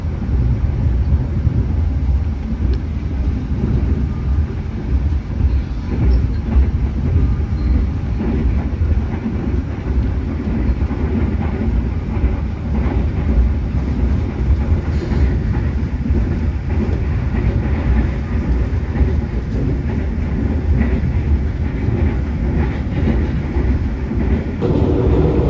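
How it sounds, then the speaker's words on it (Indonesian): The KA Progo stainless steel economy train rolls across the Progo River bridge, a heavy, continuous low rumble with faint rhythmic rattling that stays loud and steady throughout, with no talking. "baru aja tadi kereta api Progo melintasi jembatan Sungai Progo"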